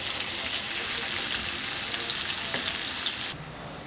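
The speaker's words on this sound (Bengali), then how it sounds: "আমরা ওই তেলের মধ্যেই কোচানো পেঁয়াজটা দিয়ে দেবো" Sliced onion fries in hot oil left from browning meat, with dried chillies, cardamom and cloves, a loud, even hiss that softens abruptly just before the end.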